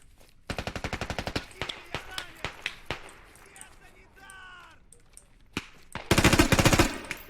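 Gunfire in the military shooter Squad: a rapid automatic burst, then scattered single sharp shots, a brief voice in the lull, and a final loud, dense burst close by.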